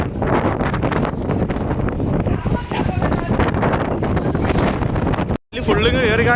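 Gusty wind blasts beside open water, a loud continuous buffeting rush that drops out briefly near the end before resuming with a faint tonal whine over the roar.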